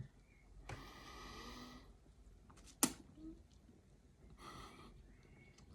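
Close, quiet nasal sniffs of an opened drink of Dragon Ice Tea mixed with Super Dry, two drawn-out breathy inhales separated by a brief click, with no talk.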